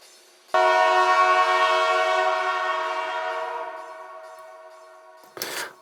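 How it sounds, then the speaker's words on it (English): A loud, sustained air horn sample in a tech house track, with rich stacked tones, slowly fading over several seconds, then a brief noisy burst at the end. "And of course the lovely air horns here"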